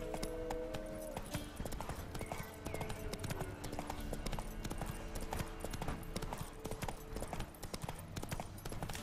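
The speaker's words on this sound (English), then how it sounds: "Come on, get on the horse." A horse's hooves clip-clop steadily in The Witcher 3 video game, crossing the Crookback Bog at a quick, even rhythm under a dense bed of game ambience and music.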